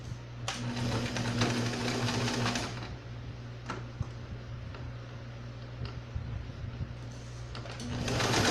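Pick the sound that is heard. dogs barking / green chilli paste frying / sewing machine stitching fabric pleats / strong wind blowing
sewing machine stitching fabric pleats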